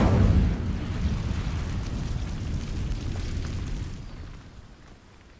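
Incendio fire spell ignites dry vines in Hogwarts Legacy: a loud whooshing burst at the start settles into a steady crackling, roaring blaze that fades toward the end, with no talk.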